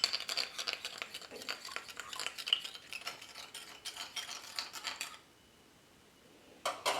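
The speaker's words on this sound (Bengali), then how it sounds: "লবণ দিয়ে ডিমটা আমি ভালোভাবে ফেটিয়ে নেব।" A raw egg is beaten with a pinch of salt in a bowl, giving quick, steady scraping clinks for about five seconds before a short pause, then a brief resumption; the sound is faint and close, with no talking.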